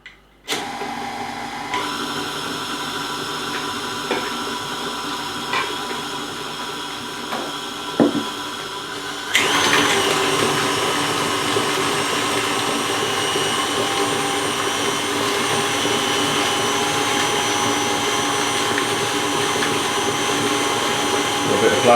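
Electric mixer whirring steadily as it beats eggs into a fruit cake mixture with a little flour added, a continuous motor drone that jumps louder and brighter partway through and then holds.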